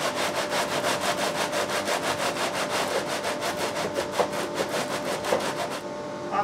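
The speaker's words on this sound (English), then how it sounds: "So I'm kind of aggressively sanding them down" Rapid rhythmic scraping of sandpaper on a wooden guitar top, quick even back-and-forth strokes, close and loud, stopping just before the end.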